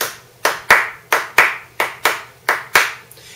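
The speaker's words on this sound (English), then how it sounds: "When we only clap on the ones and threes like that" Hands clap out a swing rhythm, eight sharp close claps in an uneven long-short pattern, loud and alone with a slight room echo after each.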